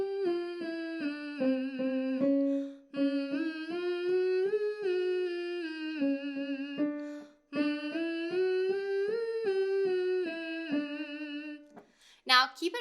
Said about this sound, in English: a simple 5-note pattern. I'll start in the lower range and work my way up like this